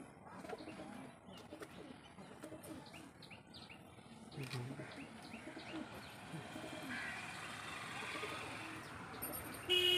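Madrasi and Giribaj pigeons coo softly inside a loft, low murmuring calls mixed with chirps over a steady background hum, while a person speaks now and then.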